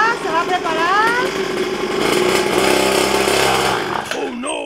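Motorcycle engine idling and revving as it warms up, a loud continuous buzzing drone with rising pitch sweeps, heard under excited talk before the engine cuts out at the end.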